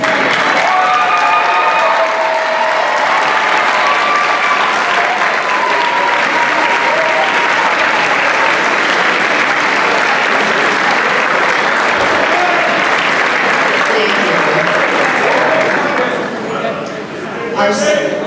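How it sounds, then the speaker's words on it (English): An audience at a senior scholarship night applauds and cheers for parents and guardians, a loud, sustained roar of clapping and shouting voices that carries on for over fifteen seconds before easing slightly at the end. "we want to give you a round of applause for doing such a great job"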